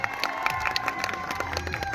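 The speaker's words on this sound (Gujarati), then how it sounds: "તાળીના ગડગડાટથી અભિવાદન" A crowd at a public felicitation event claps and cheers together, dense continuous applause with some shouts mixed in, fairly close and lively.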